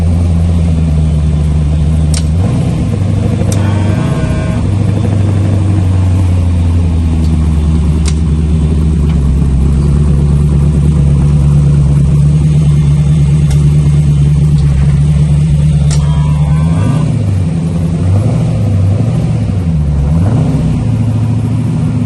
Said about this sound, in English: Factory line, brand new V8.